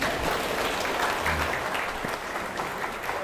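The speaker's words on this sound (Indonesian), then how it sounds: "Mana tepuk tangannya?" Applause from an audience at an Indonesian religious lecture on integrity in state service, a moderately faint, steady patter of clapping in a hall lasting a few seconds, with a few faint voices underneath.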